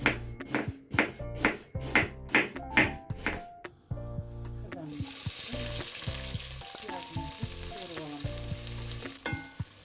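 Finely chopped onion sizzles and crackles in oil in a pot, with a few loud stirring scrapes and knocks at first, then a steady close-up frying hiss carrying on alone.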